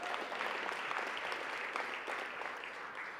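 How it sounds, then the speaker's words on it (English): A live audience at a charity event applauding, with dense, even clapping filling the room and slowly thinning toward the end. "Give yourselves a round of applause."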